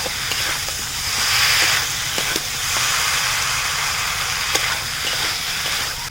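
Fried taro and potato pieces sauté in oily spice masala in a pan, a steady loud sizzle and hiss running throughout with occasional light scrapes and clicks of stirring.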